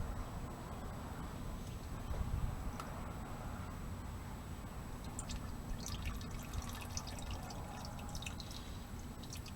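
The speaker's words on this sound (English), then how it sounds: "you want to be careful and dump it over right there into your jug. Get all that old oil out." Used engine oil drains from a 2005 Toyota Corolla into a jug, a steady faint trickle and dribble of liquid running continuously with scattered drips, no talking.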